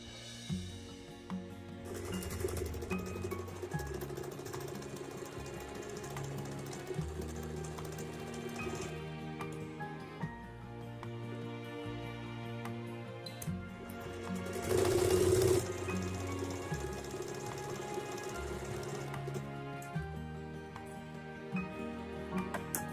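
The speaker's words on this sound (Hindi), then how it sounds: "तो इस तरह से हमने दोनों साइड सिलाई लगा ली है" A sewing machine stitches the side seams of Patiala salwar fabric, a steady mechanical whirr with a continuous hum running the whole time and one brief louder burst partway through.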